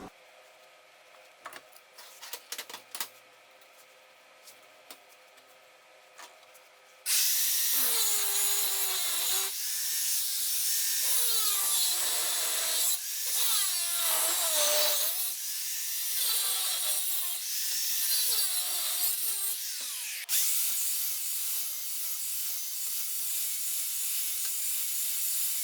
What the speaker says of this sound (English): we're just going to weld it over